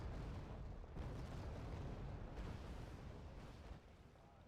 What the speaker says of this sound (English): It's not a particularly good target, but I'm shooting artillery here